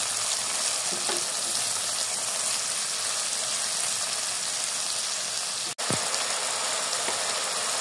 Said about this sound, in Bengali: মশলাটাকে কিন্তু অবশ্যই ভালো করে কষাতে হবে